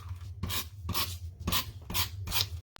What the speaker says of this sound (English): it will be faster to use my personal trimmer